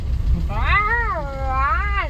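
A cat meows close by, a long wavering cry that rises, dips and rises again, over faint background noise.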